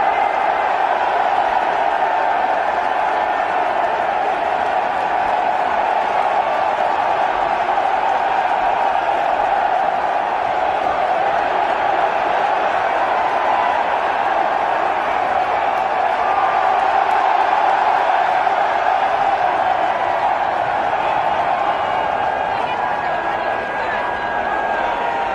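A large military audience at a graduation ceremony roars for a popular president, a dense, steady crowd din of cheering and shouting that holds at full strength for the whole stretch with no break.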